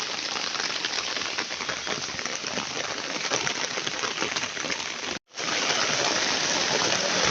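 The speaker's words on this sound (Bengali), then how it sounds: "খুব জোরে বৃষ্টি চলে এসেছে" Heavy rain pours down on a village, a dense, steady hiss that holds at one loud level, broken only by a brief silent gap near the end before the downpour resumes.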